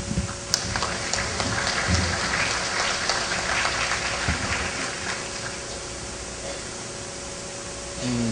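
Steady, dense applause from an audience welcoming a university rector at an academic conference in Peru, sustained hiss-like clapping at an even level, slightly fading midway before a brief swell at the end, with no talking.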